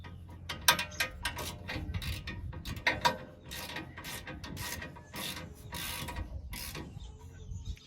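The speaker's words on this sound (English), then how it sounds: "going to hold the nut with an open end wrench and tighten it with my ratchet" Ratchet wrench tightening a brake bolt on a Ford F-150 during a brake job, with a nut held by an open-end wrench; a run of quick metallic clicks and knocks in bursts, close up, with no talk.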